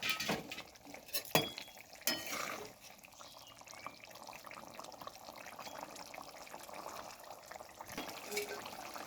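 Fried fish being stirred into boiling water in a cooking pot, with liquid sloshing and metal clinks of the utensil against the pot, busiest early on and then settling into a steady bubbling wash.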